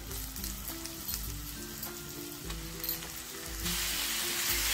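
Mushrooms frying in spiced oil with a close, crackling sizzle and light stirring knocks, and the hiss suddenly rises and brightens near the end as more goes into the pan; no speech.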